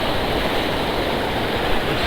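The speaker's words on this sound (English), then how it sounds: "You can see water flowing all around, and I'm in the middle of this stream." Stream water rushes all around the listener in a dense, continuous roar, loud and close, with no voices.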